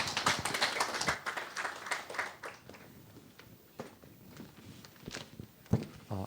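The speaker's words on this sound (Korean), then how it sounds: "나오실 때 박수 한번 우리 뜨겁게 환영할까요?" Church congregation clapping to welcome a group of youth singers at a high school worship service, a dense burst of claps that thins out into scattered sporadic claps and taps.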